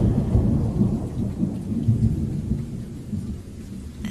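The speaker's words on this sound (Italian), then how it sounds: "il suono della pioggia in sottofondo" Steady rain falls throughout with low rumbling thunder rolling underneath, fairly loud and continuous, easing slightly toward the end.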